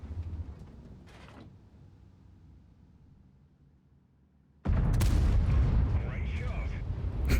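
A heavy FV215b tank cannon blasts in World of Tanks, a booming report followed by a loud, sustained explosive roar and rumble that lingers to the end, preceded by a quieter mechanical clunk.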